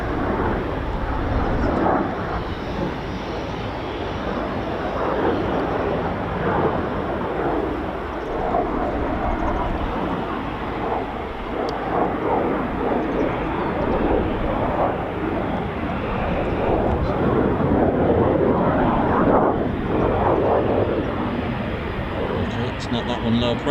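A Eurofighter Typhoon FGR4 jet flies a low approach at an RAF Coningsby airshow, its broad, loud roar continuous and steady, while people nearby talk over the engine noise.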